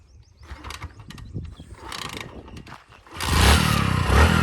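Someone starts a motorcycle in neutral: mechanical clicks and ratcheting clatter come first, then the engine catches and runs with a loud, close, steady rumble.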